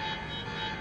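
An alarm in the video game Quantum Break sounds as a steady, sustained electronic tone over a constant rumble of background noise, with no talking.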